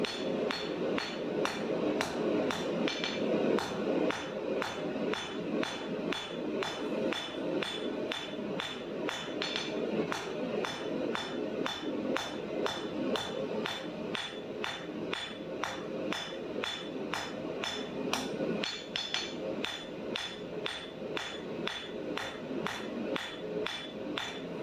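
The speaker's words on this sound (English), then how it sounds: "I forge in the 45s with a hand hammer." Rapid, regular hand hammer blows ring out on steel while forging a knife, dozens of sharp strikes in a steady rhythm with brief pauses, close and loud.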